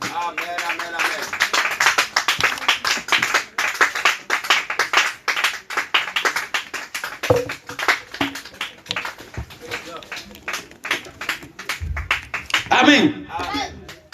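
A church congregation claps in a fast, dense rhythm of many hands through a sermon, with voices calling out and acclaiming the Lord, loud and close, with a shouted burst near the end.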